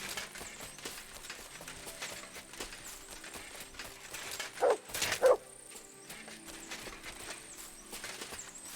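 A dog gives a couple of short barks midway through a quiet stretch of outdoor ambience in the video game Kingdom Come: Deliverance II, fairly faint and brief.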